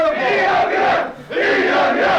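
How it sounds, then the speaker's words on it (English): A packed wrestling arena crowd at a 2001 EWF event jeers at wrestler Sharpe, a loud, sustained roar that dips briefly before swelling again. "And the crowd is letting him hear it"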